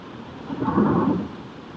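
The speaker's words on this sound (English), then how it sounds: "Wow, that's a lot of rain, Okie." A low rumble of thunder swells and fades over about a second above a steady wash of heavy rain, with no talking.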